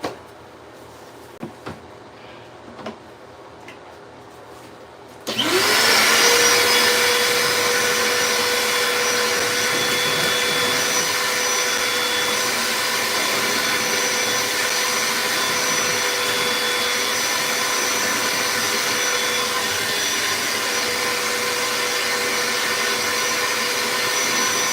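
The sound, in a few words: vacuum cleaner cleaning up after chipping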